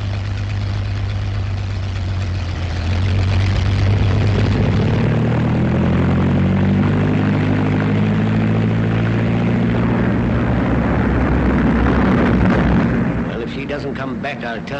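Propeller test plane from the 1939 film era roars steadily as it takes off, a loud droning engine with rising and shifting pitch lasting throughout before easing off near the end, no talk over it.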